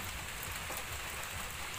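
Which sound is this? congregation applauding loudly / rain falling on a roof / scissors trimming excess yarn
rain falling on a roof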